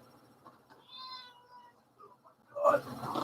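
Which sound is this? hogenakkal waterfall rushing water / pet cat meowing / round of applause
pet cat meowing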